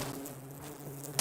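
Bees buzz close by in Fallout 76, a brief droning insect hum with a sharp noisy burst at the end.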